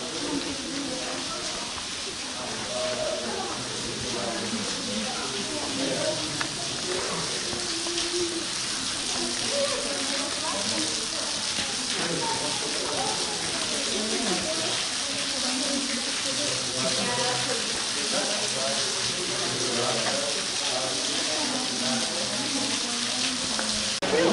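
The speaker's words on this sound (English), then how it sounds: "Water coming in from the surface." Water flows and splashes continuously in the video game Lost Sea, like a steady stream running nearby, with faint other sounds mixed into the constant rush.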